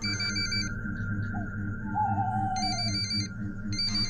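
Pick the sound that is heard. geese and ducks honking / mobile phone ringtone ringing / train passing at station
mobile phone ringtone ringing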